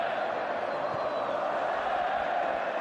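Barcelona supporters in a football stadium crowd, the Grand Stade de Tangier, keep up a steady, dense roar of chanting with no breaks, distant and blended into one continuous wash of voices.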